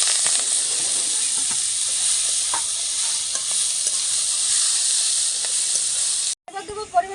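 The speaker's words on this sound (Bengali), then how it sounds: "ভাজা ভাজা হয়ে গেছে, শাকটা দিয়ে দেবো" Pea shoot greens frying in oil, a loud steady hiss and sizzle held for several seconds with faint stirring, cut off abruptly near the end, close and without talk.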